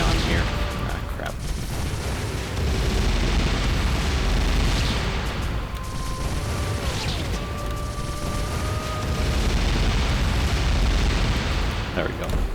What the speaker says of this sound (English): there are tiles identical to the ones I'm standing on right now that will explode shortly after you touch them